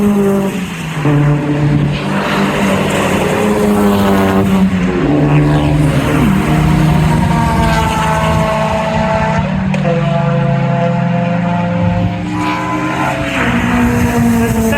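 A BMW M3 F80 with a straight-six S55 engine circling a race track: a loud, continuous engine drone with rising and falling revs as it goes by, layered over other passing cars.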